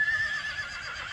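A horse gives a single short, fairly faint whinny, alone, with no talking over it.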